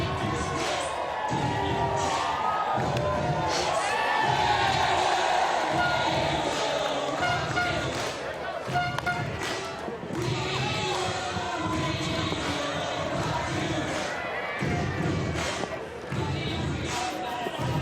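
A stadium crowd at an international softball playoff game between New Zealand and Venezuela cheers and rolls through a wave, a continuous loud roar with scattered thumps and shouts, while a commentator talks over it.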